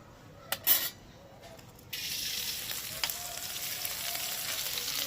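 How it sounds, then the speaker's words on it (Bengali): Rice and lentils tipped into a pot of hot melted ghee for South Indian pongal, a brief clatter of grains followed by a steady, close, soft sizzle that continues to the end, with no talking. "ঘিটা গলে গেছে পরে তো গরমই ছিল এবার দিয়ে দিচ্ছি চাল আর ডালটা"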